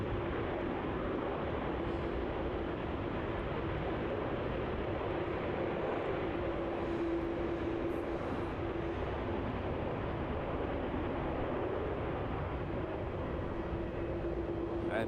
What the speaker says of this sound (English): the 330-200 from Qingdao, slowing down there on runway 34